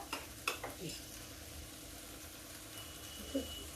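Cooked vegetables being stirred and fried in a pan, a quiet, low sizzle with a few soft scrapes and clicks of a spoon near the start and end.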